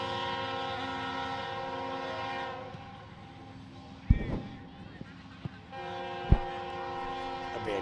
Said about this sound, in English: We got the famous train coming through.